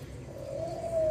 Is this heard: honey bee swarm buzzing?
no